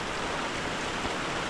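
Heavy rain pours down steadily outdoors, a dense, even hiss of falling water with no pauses.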